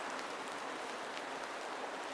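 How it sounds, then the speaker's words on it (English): Heavy rain pours down outside a wooden boat under restoration, making a steady, dense hiss of drops on surfaces that stays even throughout, with no one speaking. "It's pouring rain right now."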